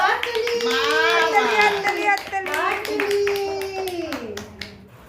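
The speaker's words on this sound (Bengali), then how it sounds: "একটু সবাই হাততালি দাও" People clap steadily at a 3-year-old child's birthday cake cutting at home. The claps sound close, and a voice and other voices sing and chatter loudly over them.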